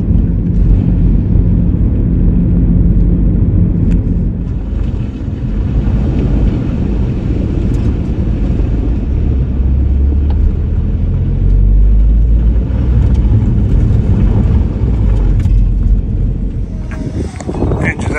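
A lorry rumbles off down the road from a waterside workshop yard, a loud, continuous low engine drone with shifting intensity that stays heavy throughout.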